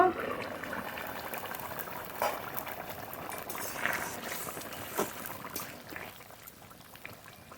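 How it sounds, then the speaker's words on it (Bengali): Fish curry broth simmering in a covered pot of water with potatoes, a steady low bubbling wash that runs throughout at moderate level, with a few soft clinks and brief bursts of louder boiling. "জল ঝোল খুব ভালো করে জাল দিয়ে নেব"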